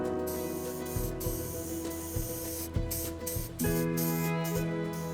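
Aerosol glue hisses in repeated short bursts as it is sprayed onto fabric and foam during an upholstery repair, the spray can clicking and sputtering between passes, close and clear with no talk.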